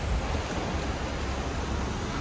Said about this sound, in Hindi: ये देखो बारिश हो रही है बहुत तेज